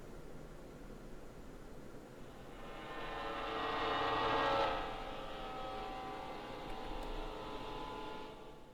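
Subway train in the horror game Lost in Vivo rumbling closer along the tracks, a broad roar that swells to a peak then eases into a steady hum, with no voices.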